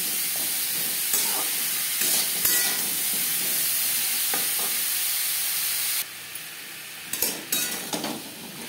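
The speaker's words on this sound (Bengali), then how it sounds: "লবণ হলুদ পেঁপের সাথে বেশ ভালো করে মিক্স করে দেব।" Diced papaya being stirred in a hot pan with turmeric and salt for a vegetarian papaya ghonto made with Gobindobhog rice, giving a steady frying hiss with occasional scraping strokes and a quieter stretch near the end.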